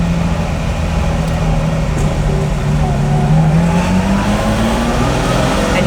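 Lamborghini Miura SV engine while driving: a steady, loud low drone with a rising pitch sweep as the car accelerates, continuous road and wind noise throughout, with no talk.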